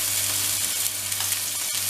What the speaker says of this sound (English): the butter, the thyme, and that garlic clove into the fry pan and just let that cook for another minute